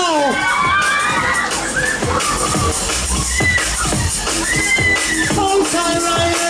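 Riders on a waltzer fairground ride shout and cheer together, a loud, dense crowd of excited voices that keeps going without a break.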